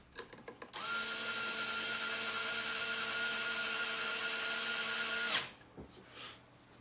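Electric drill or screwdriver running steadily for about five seconds, driving screws into the cover of a KitchenAid Pro 600 stand mixer during repair, a loud whining motor hum that cuts off abruptly, with faint handling clicks before and after.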